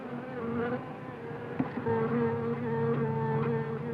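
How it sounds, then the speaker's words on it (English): Wasps buzz steadily and close by, a continuous drone that wavers in pitch as they move, with one brief knock partway through and no talking. "Wasp, you better be careful. They can sting a man to death."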